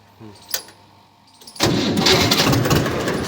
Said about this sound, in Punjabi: ਹੁਣ ਆਪਾਂ ਟਰੈਕਟਰ ਦਾ ਤੁਹਾਨੂੰ ਸਾਊਂਡ ਚੈੱਕ ਕਰਾਵਾਂਗੇ